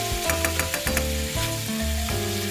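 Brussels sprouts and onions cook down in a hot pan. A steady sizzle runs throughout with brief stirring noises, under loud tonal music.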